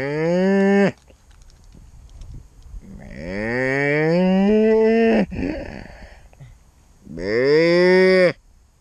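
Three loud, drawn-out cow moos played as a sound effect, each a long harmonic bellow rising and falling, separated by short pauses with faint background noise.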